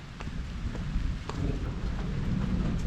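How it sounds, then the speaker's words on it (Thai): Heavy rain falls steadily in a dry-season downpour over a rural home garden with avocado trees, with diffuse thunder rumbling in the background and occasional wind buffeting; no voices, a continuous moderate wash of sound. "ในวันที่ฝนตกปล่อย ๆ แบบนี้ ฟ้าร้องกรนนำบนฟ้าเลย"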